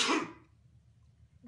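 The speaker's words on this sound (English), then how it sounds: "I sneezed." A person lets out a single sharp sneeze at close range, followed by near silence with only a faint low room rumble.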